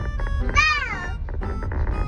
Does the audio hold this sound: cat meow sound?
yes